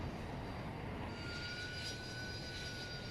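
A jet aircraft engine in Battlefield 2042 roars steadily, a continuous rushing drone with a thin whine on top, heard alone without talk.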